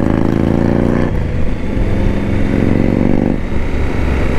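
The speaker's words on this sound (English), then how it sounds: "it is an absolute joy to ride this bike." A Yamaha XT1200 motorcycle is ridden with a loud, continuous engine drone close by, shifting pitch partway through as it changes speed, with no voices.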